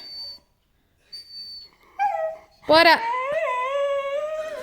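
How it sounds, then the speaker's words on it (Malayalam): Caesar the dog lets out a rising, wavering howl-whine in place of a bark, close and loud for about two seconds, after a few brief vocal sounds, with a person speaking briefly around it. "മോങ്ങല്ല കുരക്കി"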